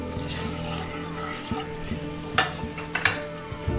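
Kashmiri chili powder is stirred into hot oil in a pan for a cabbage kofta curry gravy, with a soft steady sizzle under the sharp clinks and scrapes of a utensil against the pan.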